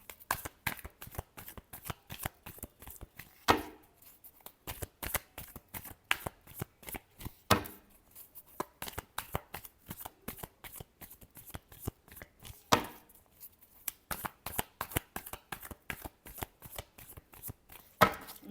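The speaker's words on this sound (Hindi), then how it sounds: "last shuffle" Tarot cards are shuffled by hand in a long run of quick riffling and slapping bursts, close and fairly crisp, with brief gaps between shuffles.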